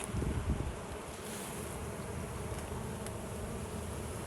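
Honeybees buzz in a steady, dense drone during a hive inspection, with a louder swell of close wingbeats at the start before settling into a continuous hum alone.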